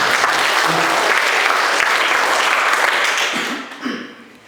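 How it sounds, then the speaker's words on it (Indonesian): Students at an anti-bullying program session at SMA Negeri 3 Poco Ranaka clapping for themselves; a roomful of close, lively applause that holds steady, then thins out with a few scattered voices as it ends. "Tepuk tangan dulu buat diri sendiri."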